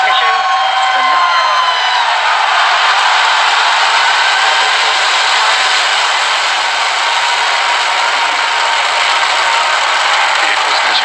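Falcon Heavy rocket lifting off at Kennedy Space Center, a dense, steady broadband roar holding at full strength throughout with no gaps, mixed with distant crowd noise.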